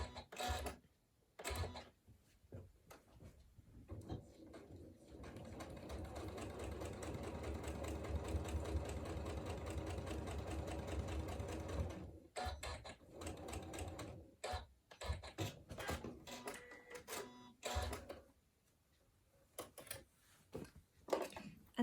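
A sewing machine stitches straight across the corner of a workshop bag, running in a steady, close mechanical hum for several seconds, with quieter handling sounds before and after.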